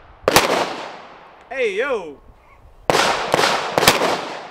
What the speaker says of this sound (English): I'm bringing out the Glock 43X. I'm shooting it for the first time ever.